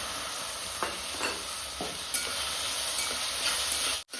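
Tomatoes frying in oil with onion and garlic give a steady, close hiss of sizzling, broken by a few soft stirring scrapes and a brief sharp knock near the end.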